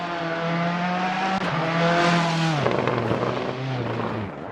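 Rally car driving fast on a stage at the Rally Nova Gorica, round of the Eastern European Rally Championship: a loud, close engine holds high revs, then drops in pitch as it shifts and passes, with gravelly road noise.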